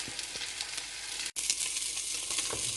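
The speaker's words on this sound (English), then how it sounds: "So I just put it in the fry pan for just a little bit longer, just to sear it a bit more." Beef cheeks searing in a fry pan give off a steady, close, broadband sizzle that crackles without pause, with one brief break near the middle, and no one speaks.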